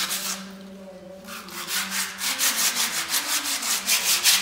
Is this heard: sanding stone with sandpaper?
yes